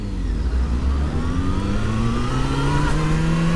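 A used motorcycle's engine runs loud and close, rising steadily in pitch as it revs up over a few seconds.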